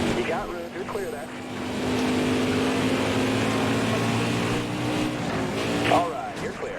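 Race cars roaring around a night track in the NASCAR Heat 5 video game, a steady, loud engine drone with passing surges, under a spotter's voice on the radio.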